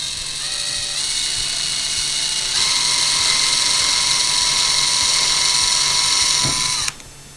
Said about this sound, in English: We're going to drill a small little pilot hole exactly where we wanted it, right here.